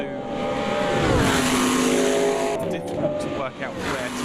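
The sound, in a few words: Group C race car engines and exhausts, Automobilista 2 video game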